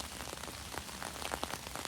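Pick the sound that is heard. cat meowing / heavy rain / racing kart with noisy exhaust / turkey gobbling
heavy rain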